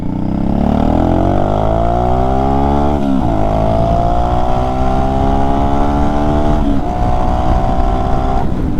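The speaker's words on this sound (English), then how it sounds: "The V-twin revving out like that actually sounds kind of cool." A Honda Shadow 500 V-twin motorcycle engine revs up loud and close, its pitch climbing through the first few seconds and then holding a steady high drone. The note dips briefly near the end and picks back up, with no talk over it.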